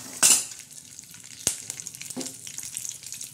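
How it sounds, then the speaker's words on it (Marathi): Curry leaves hit hot oil with a sharp burst of sizzling, followed by a spoon clink and a steady, crackling fry that tapers to a softer sizzle. "तेल टाकणार आहोत. कढीपत्ता टाकणार आहोत."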